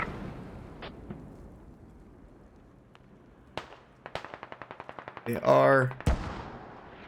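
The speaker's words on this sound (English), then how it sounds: "Mortars are once again rocking the enemy Hab." Distant explosions and rapid gunfire crackle through a Squad tournament match, with sharp bursts building into a dense, loud cluster of blasts near the end, under a brief spoken phrase.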